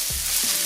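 Garlic hits a hot pan for a savoury flatbread and sizzles loudly in a bright, hissing burst, with a couple of soft low thumps as it lands.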